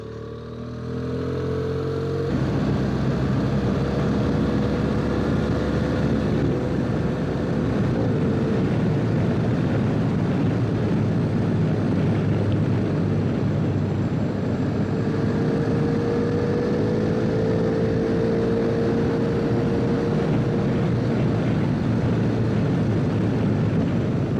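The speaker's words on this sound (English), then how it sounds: "The downshifts are unreal." Car engine fitted with Black Widow exhaust headers roars steadily and loudly for a long stretch on a test run, with downshift changes in pitch over a constant engine drone.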